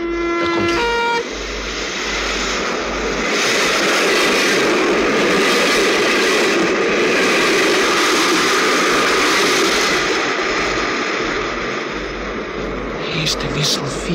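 A train passes over a railway switch in a radio play, a long, loud, rumbling roar that swells and holds for over ten seconds, with a short horn-like tone at the start and clattering near the end.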